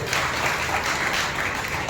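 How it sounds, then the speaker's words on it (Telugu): A Sunday worship congregation claps together in a dense, steady wash of applause, moderately loud and without talk, sustained throughout. "చప్పట్లు కొట్టి ప్రభువును మహిమపరచాలి."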